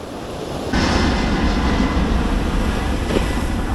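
An airplane taking off from an airport beside a Jamaican beach roars up suddenly into a broad, steady, loud rush of engine noise that holds for several seconds, with wind buffeting the microphone.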